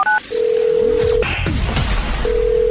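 Telephone-style intro sound effect for a phone scam radio segment: short dial tones and a steady held tone, broken by a whooshing sweep in the middle, then the tone returns, loud and close.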